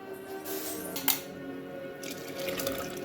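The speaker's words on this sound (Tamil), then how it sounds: "தேவையான அளவு தண்ணி சேர்த்துக்கலாம்." Water splashes and trickles steadily into a clay pot holding fish curry, a soft continuous pour with a brief brighter splash partway through.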